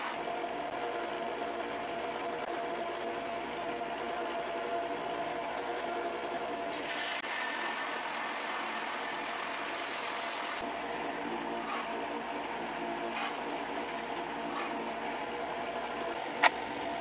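A belt grinder shapes epoxy resin handle scales on a kukri knife, giving a steady, continuous motor whine with a sharper grinding tone from about 7 to 10.5 seconds, and a few brief contact bursts afterward.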